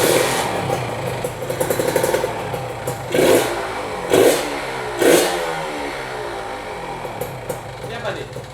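Kawasaki Ninja motorcycle engine at a casual street setting, idling with several sharp, short throttle blips spaced about a second apart, with people chatting nearby.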